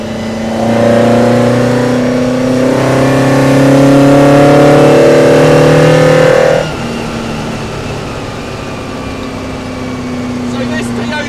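A stock Toyota engine swapped into a JDM-powered Austin-Healey Sprite revs hard, its note climbing steadily for about six seconds before cutting off abruptly. It stays loud and close, then drops to a lower idle-like drone.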